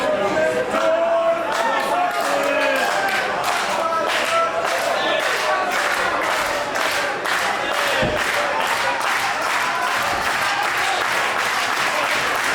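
Wrestling show crowd at GWF Rising Heat 2022 clapping in a loud, steady rhythmic beat, with shouts mixed in, as both wrestlers lie down after a kick-out.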